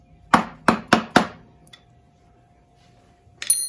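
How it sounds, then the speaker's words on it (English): Four sharp metallic taps in quick succession bend locking tabs over bolt flats on a 2009 Yamaha YZ250F dirt bike rebuild, followed by a quiet pause with faint clinks and one more knock at the end. "So now you just take these tabs and you just bend them over onto the flats."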